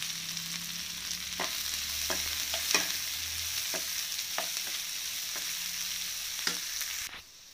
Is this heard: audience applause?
no